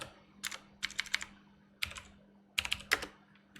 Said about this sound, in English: I do realize you can't even see what I'm typing.